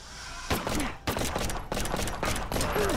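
Rapid bursts of video-game gunfire from The Last Exterminator crackle in three loud clusters, separated by brief gaps, with no voices over them.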